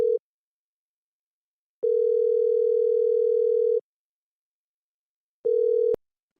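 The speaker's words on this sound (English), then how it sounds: "pick up, man. This ringer is so loud." A telephone ringback tone plays while a call waits to be picked up: long steady electronic beeps of about two seconds, separated by silent gaps. It is loud and alone, with no talk.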